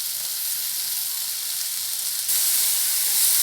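Coriander leaves sautéing with ridge gourd in a pan for a thuvaiyal, a steady close hiss of sizzling that grows louder partway through, with no voices.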